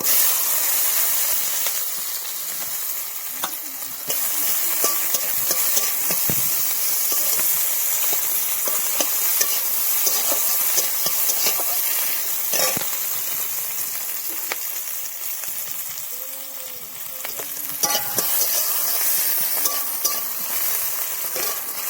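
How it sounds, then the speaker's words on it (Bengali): Onions frying in hot oil with dried red chillies for a Bengali leafy-greens dish: a loud, continuous close sizzle with stirring scrapes throughout, steady hiss and no speech. "অল্প পরিমাণে পেঁয়াজ দিয়ে দেবো।"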